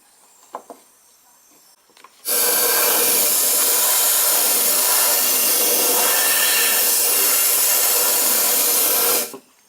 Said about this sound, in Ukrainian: можна трохи і дмухнути великою кількістю повітря